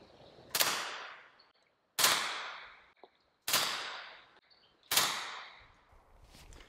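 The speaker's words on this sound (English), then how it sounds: "First round pop, noticeably louder than the SD system. Second round, still pretty loud." Four suppressed pistol shots from a Beretta M9A4 fitted with an AB Suppressor F4L, evenly spaced about a second and a half apart, each a sharp crack followed by a fading reverberant tail.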